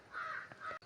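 A crow gives a single loud, drawn-out caw nearby, harsh and nasal, with nothing else heard around it.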